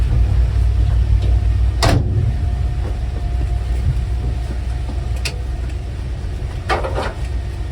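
A 1957 Jeep FC-170 wrecker tow truck on a test drive, its engine a steady low rumble with a few sharp knocks and rattles from the cab.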